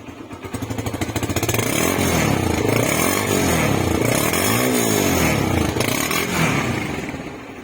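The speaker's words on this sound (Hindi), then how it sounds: "इस बाइक की साउंड सुनाता हूं मैं आपको।" A motorcycle engine, from a small collection of bikes with water seeping from a sensor, idles and then revs up and down in repeated swelling sweeps. It is loud and close, with a rattling, chainsaw-like buzz and no talking.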